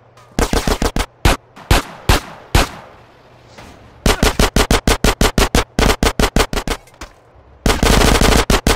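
Machine gun fire rips out in loud, close bursts of rapid shots, short staccato volleys broken by brief pauses, then longer sustained strings of rounds.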